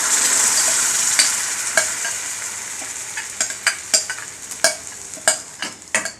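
Ground masala paste goes into a paneer gravy in a pan and is stirred, a loud sizzle first, then a run of rhythmic spoon scrapes and knocks against the pan, with no talking.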